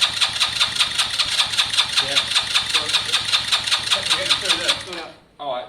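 A Lexmoto Valiant motorcycle engine cranks over in a start-up attempt, a fast rhythmic chugging pulse close by that runs for about five seconds, then cuts out abruptly before a short final burst.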